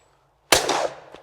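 A single shotgun blast at a clay target on a shooting ground, one sharp close report with a short decaying tail and a faint echo just after.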